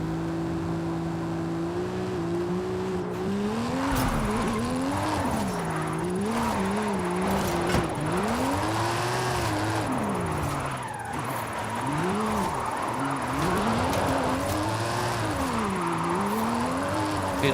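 A Chevrolet Corvette Z6, S2 performance class, drifting in Forza Horizon 5, its engine revving steadily and swooping up and down in pitch as the throttle rises and falls, loud and continuous.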